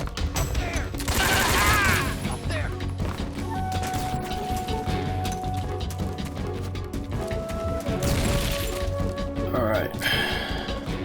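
Gunfire in Metal Gear Solid 3: Snake Eater, with scattered sharp shots and mechanical clatter over game music, and a person talking across much of it.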